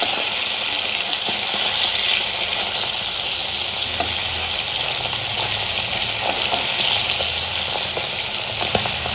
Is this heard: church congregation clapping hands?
no